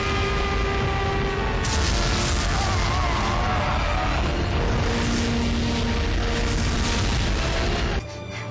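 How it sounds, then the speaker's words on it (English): Proton cannon firing in a Transformers cartoon: a loud, sustained roaring blast with a rumbling boom that fills several seconds, then cuts off abruptly near the end. "Activate proton cannon!"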